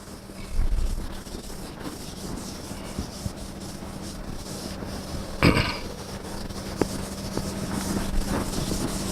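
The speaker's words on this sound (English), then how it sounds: "Now, we will rub out a little bit of space from the top and carry on working" Eraser or duster rubbing writing off a board during a maths lecture, a steady low scrubbing that runs throughout, with one sharper brief burst midway; no talking.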